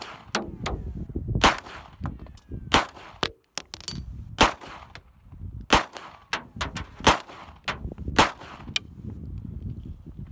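Taurus PT92C pistol shots ring out at an outdoor range, a dozen or so sharp cracks in irregular bursts, several followed by faint metallic pings of rounds striking a target.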